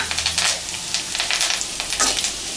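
Potato pieces and curry leaves fry in a pan for an aloo fry, a steady close sizzle broken by a few bursts of stirring, with no voices.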